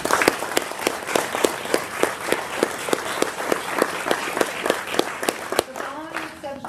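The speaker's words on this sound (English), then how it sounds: "Please join me in a round of applause for these team members." Steady applause from an audience at an Army Futures Command town hall, honoring team members; dense, even clapping fills the clip and thins out near the end as a voice begins.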